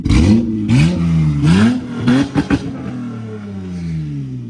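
A full bolt-on J35 Honda Accord engine revs up sharply in several loud, close blips that rise and fall quickly, then settles back to a steady idle.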